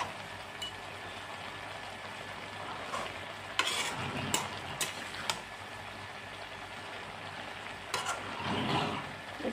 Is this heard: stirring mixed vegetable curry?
yes